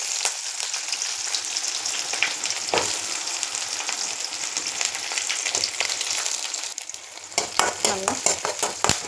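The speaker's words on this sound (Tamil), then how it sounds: "இப்போ நம்ம கடுகு போட்டுக்கலாம்." Mustard seeds fry in hot oil with a steady, close sizzle and spitting crackle, broken by occasional scrapes of a stirring spoon, and the popping grows busier toward the end.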